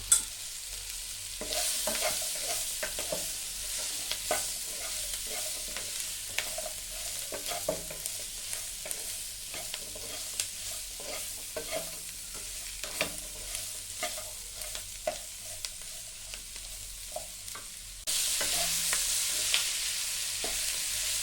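Sliced onion softening in hot oil for dry chilli chicken, a steady moderate sizzle broken by frequent sharp spatula scrapes and clicks against the pan, with a brighter, louder hiss near the end.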